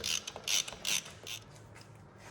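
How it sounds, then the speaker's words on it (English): Bolts being tightened on a Ford Cruise-O-Matic transmission shifter, with a few short creaking ratchet clicks close up, then quiet, no talking. "So I'm gonna tighten them till they bottom."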